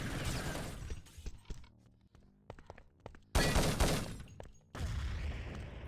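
Gunfire bursts from the Urban Terror video game, with sharp shot clusters and a loud sustained volley midway, separated by quieter gaps of mechanical clicks and movement.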